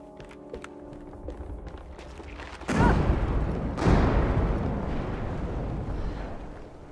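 Two sudden loud booming gunshots a second apart in the video game Alone in the Dark, each followed by a lingering rumbling tail, with no one speaking.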